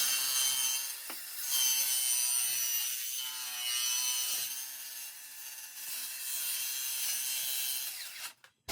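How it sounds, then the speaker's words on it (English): A circular saw plunge-cutting into an exterior door for a pet door opening, a loud sustained whining buzz as the blade bites through the wood, steady for several seconds before spinning down, with no talking. "I make a plunge cut with the circular saw so it's nice and straight and clean"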